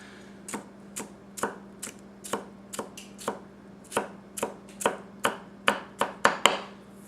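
A Tsutomu Kajihara 210mm gyuto knife chops food on a board in crisp, evenly spaced strokes, about a dozen in a row, growing slightly faster and louder toward the end, close and alone without talk.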